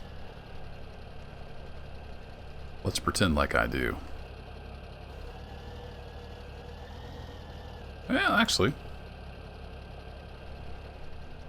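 A tractor engine idles steadily with a low, even hum in Farming Simulator 17, running underneath two short bursts of someone talking.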